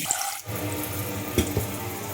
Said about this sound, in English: that's why I'm running the tap